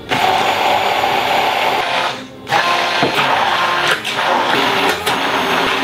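A hand blender whirs steadily and loudly while emulsifying oil for a salmon terrine, a continuous motor whine with a couple of brief dips as the blade is lifted or shifted.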